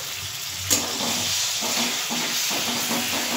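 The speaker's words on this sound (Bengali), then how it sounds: "2 চামচ তেঁতুলের জল আমি দিয়ে দিচ্ছি।" Tamarind water hits hot fried masala for a tilapia fish curry, setting off a sudden sharp hiss that settles into a steady, close, loud sizzle with no talk.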